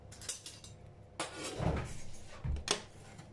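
A spoon clinks faintly against dishes and a plate while a cake batter is prepared. There are a few soft, separate knocks and scrapes close by in a quiet kitchen.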